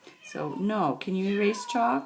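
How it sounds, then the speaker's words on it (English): A house cat meows several times, its voice rising and falling close by, while a person talks over it during a chalk drawing session. "Oh, sorry, that's my cat."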